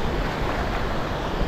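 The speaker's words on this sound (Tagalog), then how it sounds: "Dito na tayo sa basagan ng alon" Ocean waves breaking on the shore, a dense and constant roar of surf with wind buffeting the microphone, loud and close, and no voices.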